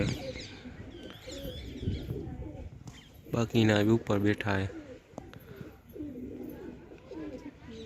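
Pigeons coo in a loft, with a burst of close, loud cooing midway. Someone talks over the birds for much of it.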